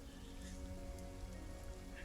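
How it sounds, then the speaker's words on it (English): Heavy rain pouring down steadily, a dense continuous wash of drops on surfaces with no break across the short stretch, fairly quiet and even in level. "the rain is starting to come down very heavy"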